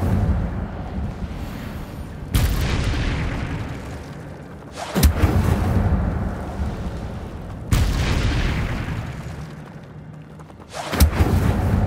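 Incendio fire spell cast repeatedly in the video game Hogwarts Legacy, heard as three or four loud booming bursts at steady intervals, each a sharp blast followed by a rushing, roaring decay, with no talking.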